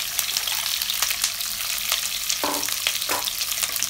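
Chopped capsicum sizzles and fries in a hot cumin tempering, a steady crackling hiss with a couple of sharper stirring scrapes from the pan, close and without talk.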